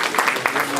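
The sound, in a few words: audience applause for Olusegun Obasanjo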